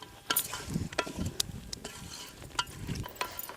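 Country chicken curry is stirred in a pot, with irregular scraping and clinking strokes over a soft sizzle. The strokes are close and moderately loud, with no one talking.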